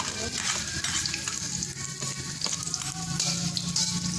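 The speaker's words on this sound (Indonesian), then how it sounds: "kita tumis dulu bawang merah, bawang putih" Shallots and garlic stir-fry in a hot pan, a dense, steady sizzle with scraping stirring strokes running throughout, close and fairly loud, with no talking.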